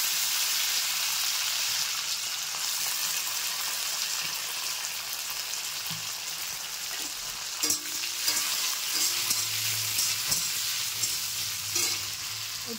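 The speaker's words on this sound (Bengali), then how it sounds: "আমি এখন কাজু আর কিশমিশটা দিয়ে দিলাম।" Cashews and raisins fry in hot spiced oil with browned masala and meat, giving a continuous crackling sizzle, with a few soft clinks and scrapes of stirring partway through.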